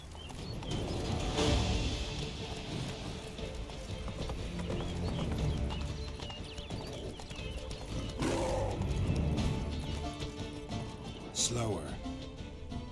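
Horse hooves clip-clopping steadily during riding in The Witcher 3: Blood and Wine, with a brief whinny, heard under ongoing game music and ambience.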